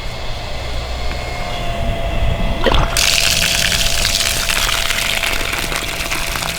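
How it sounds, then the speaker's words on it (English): Pond water rushing through irrigation pipes on a five-acre homestead: a low hiss that suddenly surges into a loud, constant broadband gush partway through and keeps pouring. "let me show you the pond water running through here."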